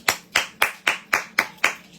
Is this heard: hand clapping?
yes